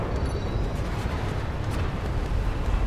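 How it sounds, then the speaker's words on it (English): Massive explosions in Space Engineers come through as a continuous deep, rumbling roar, dense and sustained without distinct separate blasts, steady in level throughout. "I hear massive explosions"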